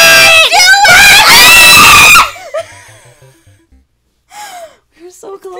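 A person screams loudly and at length while playing Mario Maker, then breaks off into gasps and shorter cries amid quieter pauses.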